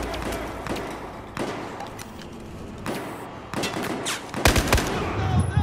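Gunfire in Battlefield 4 at an airfield: a string of sharp, irregular shots cracking out about once a second, getting louder and denser toward the end over a rumbling battle background.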